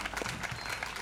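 A church congregation at a Pentecost service applauds in a steady, dense patter of clapping, brief and moderately loud, with a faint voice mixed in.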